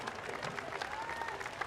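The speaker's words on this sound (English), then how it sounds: "Brilliant crowds here this morning in Cardiff." Steady applause and cheering from spectators lining the course at the Cardiff Half Marathon, a continuous clapping wash from a crowd at middle distance.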